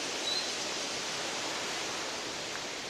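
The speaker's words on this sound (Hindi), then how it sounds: "आपको आवाज़ आ रही होगी क्योंकि इधर साइड से पानी बह रहा है" Water rushing steadily along the trail to Patna Waterfall near Rishikesh, a continuous broadband hiss with no voices over it.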